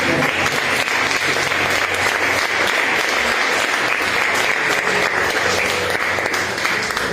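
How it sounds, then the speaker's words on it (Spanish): A church congregation breaks into strong applause, a thick continuous roar of clapping from many people that holds at full level throughout, with no voices over it. "Den un fuerte aplauso."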